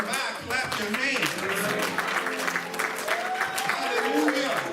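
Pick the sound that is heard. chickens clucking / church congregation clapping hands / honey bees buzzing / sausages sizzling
church congregation clapping hands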